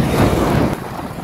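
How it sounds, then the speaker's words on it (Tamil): Strong wind buffets the microphone in a loud, steady roar, likely outdoors near the sea at Kanyakumari during a cycle ride, easing slightly toward the end. "காற்று அந்தளவுக்கு வீசுது"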